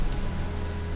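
Steady rain falls without pause on an exposed outdoor camp with no shelter, a dense, even patter that fills the whole moment, with no voices over it.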